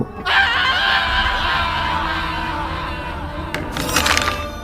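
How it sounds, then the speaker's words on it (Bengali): A loud, piercing scream erupts suddenly and holds for a few seconds, ending in a harsh, noisy burst. "হঠাৎ চিৎকার শুনে সুমনের ঘুম ভেঙে যায়"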